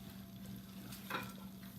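Carrots are stirred in a hot frying pan, with a faint steady sizzle and a brief scraping stir near the middle, heard quietly and alone.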